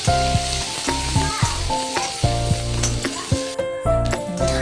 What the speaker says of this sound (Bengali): হালকা লাল লাল করে ভেজে নেব পেঁয়াজটা।